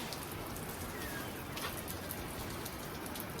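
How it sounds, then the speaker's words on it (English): Heavy rain pours outside and runs off a roof: a dense, steady hiss of falling water with scattered drops, continuous and moderately distant throughout. "And it just started pouring rain outside."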